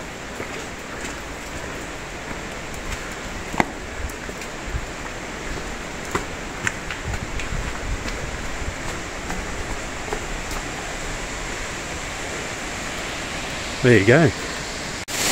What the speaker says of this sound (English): So we've arrived at Twin Falls. You can hear all the noise from the cascade.